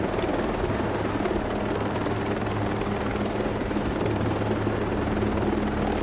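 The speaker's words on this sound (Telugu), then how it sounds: "హెలికాప్టర్తో జర్నీ ఎలా ఉంది?" A helicopter in flight in the video game Ghost Recon Breakpoint, its rotor and engine producing a steady, loud, continuous thrum with a low rhythmic beat throughout, no talk over it.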